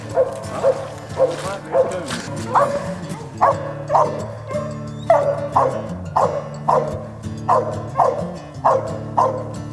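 A hunting dog on a squirrel hunt in Newberry County barks repeatedly and loudly close by, its barks falling into a steady, rhythmic run that lasts the whole stretch.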